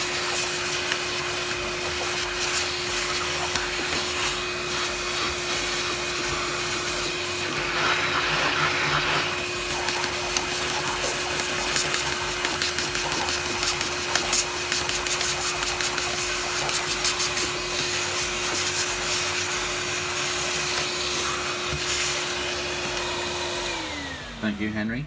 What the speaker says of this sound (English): we take our lovely Henry cordless, put him on full power, and we clean the filter